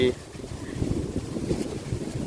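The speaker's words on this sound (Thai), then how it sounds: "ลมพัดวีวี" Wind gusts outdoors with a low, rumbling buffeting against the microphone that swells and eases throughout, under quiet talk.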